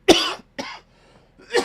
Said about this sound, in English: It's this damn cough, man.